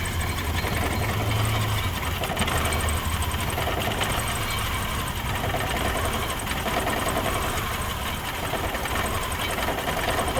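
A car engine idles roughly with violent shaking, giving a continuous rattling, knocking drone with a steady uneven pulse throughout and no talking.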